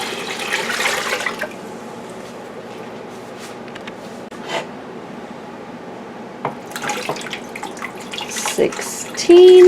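Water is poured into an electric pressure canner in a kitchen to measure displacement, coming in a running burst at first, then a quiet stretch, then a second run of pouring near the end.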